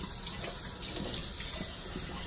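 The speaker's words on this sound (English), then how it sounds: "we're just going to take and do a quick rinse" Tap water runs steadily while rinsing the inside of a pottery piece before glazing, a constant splashing hiss at moderate volume with no speech.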